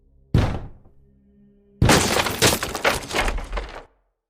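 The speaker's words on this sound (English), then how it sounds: "Break that door or we should be too late." A wooden door broken down in an old radio drama: one heavy thunk, a pause, then a long splintering crash of breaking wood that fades out.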